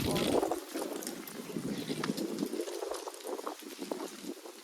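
Strong gusting wind of a whirlwind roars and buffets the microphone, rushing and rumbling continuously with no voices.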